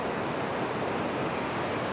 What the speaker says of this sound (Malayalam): ആ പുഴയിലെ വെള്ളമാണ് ഈ റോഡിൽ കൂടെ ഒഴുകി അങ്ങ് താഴേക്ക് പോകുന്നത് കേട്ടോ.